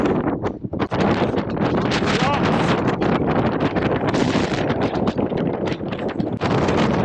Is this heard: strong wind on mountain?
yes